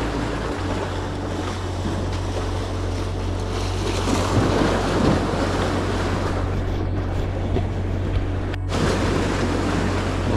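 Sea waves wash and wind rushes steadily around a fishing boat, with loud buffeting on the microphone and a constant low rumble, and no voices.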